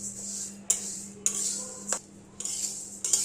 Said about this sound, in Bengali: খিচুড়ি রান্না করার জন্য আমরা ডালটা ভেজে নিচ্ছি।